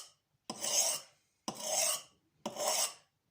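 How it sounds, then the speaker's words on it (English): Three slow, even rasping strokes of a kitchen knife drawn across a Norton India oil stone, each a broad scraping sweep with short pauses between, close and clear with no talk. "to sharpen the knife evenly"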